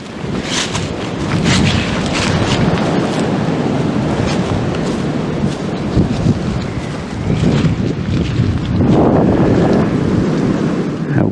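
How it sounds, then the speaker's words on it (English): Strong, steady wind buffets the microphone outdoors on a winter hammock camping trip, a loud continuous roar with gusty swells and no voices. "That wind is steady all day."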